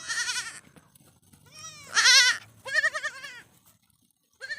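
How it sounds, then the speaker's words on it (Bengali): Young goat kids on a farm bleat in winter, several loud, wavering high-pitched cries in quick succession with brief pauses between, close to the microphone. "ছাগলের বাচ্চাগুলো এই"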